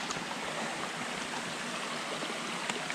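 Water in a mountain stream rushes steadily at the Flume on the Mount Kinsman Trail, a soft and even wash of sound with no voices.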